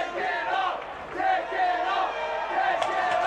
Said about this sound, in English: The crowd is going crazy for that one.